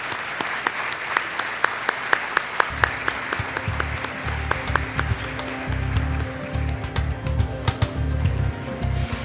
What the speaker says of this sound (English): Please join me in honoring this group of 8 semifinalists with another round of applause.